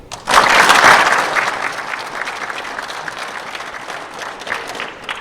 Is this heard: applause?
yes